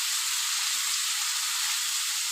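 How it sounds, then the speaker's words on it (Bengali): Shrimp and eggplant frying with turmeric and salt for a Bengali chingri begun chorchori. A loud, steady, hissing sizzle runs close and unbroken, with no voices. "আমি ভালো করে ভেজে নেব।"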